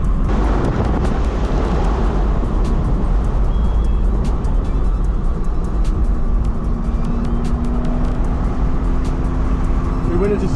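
A BMW drives on a race track, a loud, steady engine drone from inside the car with tire and wind noise and a rising rev tone toward the end; someone talks over it.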